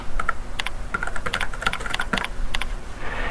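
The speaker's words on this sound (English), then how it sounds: "And let's go ahead and type in agriculture." Computer keyboard typing, close and clear, in quick irregular bursts of keystrokes with brief pauses between words and no voices.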